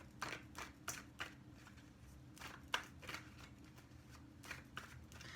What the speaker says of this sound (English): Shuffle 2 more times.